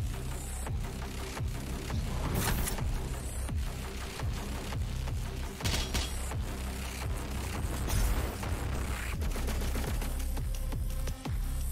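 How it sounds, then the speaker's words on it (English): Constant heavy gunfire in Doom Eternal during a siege on a cultist base, a loud, close barrage of sharp shots and booms over a dense roaring game mix that never lets up. "Hear the gunfire."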